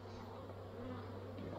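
Honey bees from a calm, productive colony hum steadily at a late summer split hive, a dense continuous drone heard close and alone without any voices.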